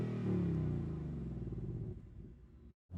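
A Hyundai i20 N engine held high at launch, a loud steady close drone that wavers as it bounces off the rev limiter, then cuts out abruptly near the end before picking up again.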